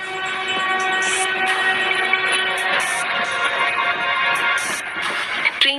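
A train pulls into a railway station in a Hindi cartoon, its steady rolling rumble loud and close, broken by several short horn blasts.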